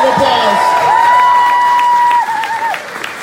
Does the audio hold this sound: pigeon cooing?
no